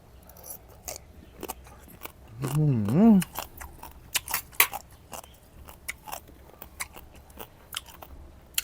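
Crunchy squid in a spicy Thai salad being bitten and chewed close up, a run of crisp snapping crunches spread across the clip, with a short spoken voice partway through.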